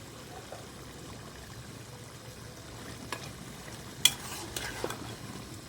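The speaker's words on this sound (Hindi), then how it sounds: "अब हम टमाटर के साथ इसको बहुत ही अच्छे तरीके से भुनाई करेंगे। फ्लेम को हम हाई कर देंगे" Beef karahi with softened tomatoes frying on high flame, a low steady sizzle with spatula scrapes and a few sharper clinks toward the end, close by and without talk.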